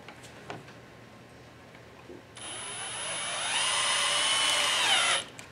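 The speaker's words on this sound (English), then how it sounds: "Using your drill and two small screws," A cordless drill drives small screws through a vent template into a floor, one sustained high whine that rises in pitch as the screw seats and then stops abruptly.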